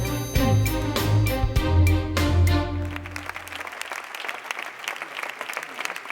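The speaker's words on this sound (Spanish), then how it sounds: "Ovación al consejero de Agricultura y Ganadería, Jesús Julio Carnero, al inicio del pleno." At the opening of a plenary session in the Castilla y León regional parliament, members give the regional agriculture and livestock minister an ovation: a loud musical passage at first, then sustained applause.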